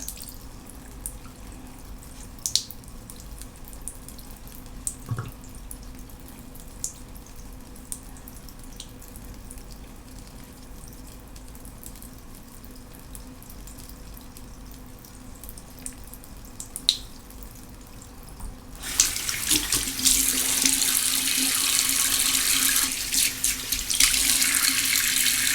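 Tap water runs steadily into a sink while a face is rinsed during a skincare routine, starting as faint dripping and then turning into a loud, continuous splashing flow for the last several seconds.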